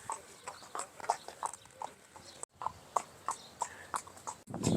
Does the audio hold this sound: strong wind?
no